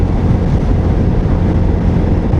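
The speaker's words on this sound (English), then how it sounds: "When it's a bit windy, you are feeling a lot of this wind hitting your chest and your face." Steady, loud rumbling wind buffeting the microphone while riding a V4 muscle cruiser motorcycle, a continuous low roar with no breaks, like riding into a headwind at speed.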